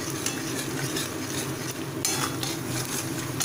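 Thick spice paste sizzles in a hot pan while a spoon scrapes and stirs it, a continuous close crackle with scraping strokes and a few metallic clinks.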